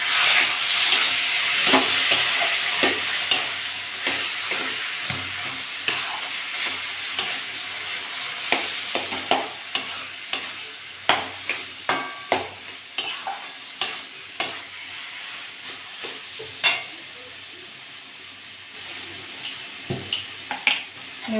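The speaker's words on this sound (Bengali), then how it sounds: "নেড়ে চেড়ে ভালো করে মিশিয়ে নিয়েছি।" Taro leaves being stirred and fried with spices in a pan, a steady sizzle under repeated sharp scrapes and clinks of a spoon against the metal, close and fairly loud throughout.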